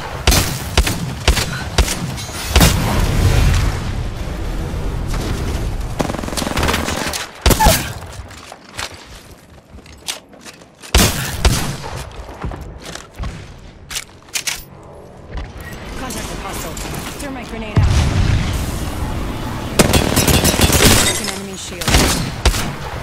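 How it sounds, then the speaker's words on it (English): Grenade explosion and gunfire in the battle royale game Apex Legends, bursts of rapid shots and sharp blasts with shattering debris, loud and close, separated by a quieter lull midway. "Grenade."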